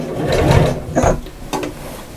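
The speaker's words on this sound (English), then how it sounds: "I'm just now going to stitch straight across the front or the back of my bag" A sewing machine stitches across the front of a roomy reversible fabric shopper bag, giving a close, moderately loud mechanical whirr in short bursts with brief pauses between runs.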